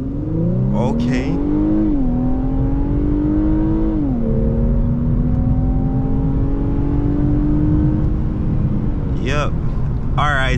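A 2023 Infiniti Q50 with 300 horsepower accelerates hard from 0 to 60 in sport mode, its engine climbing in pitch through several gear shifts, loud and close from inside the cabin, with brief talk at the end.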